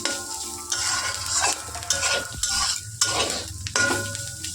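Food fries in a pan as it is stirred, with a steady sizzle under repeated scraping and clattering strokes of the utensil, close and clear with no voices.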